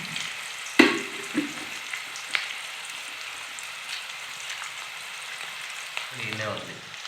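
Chicken with whole spices such as mace and nutmeg frying in hot oil, a soft continuous sizzle with a sharp clatter near the start and light stirring scrapes later.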